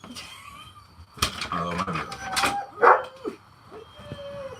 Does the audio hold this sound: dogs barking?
yes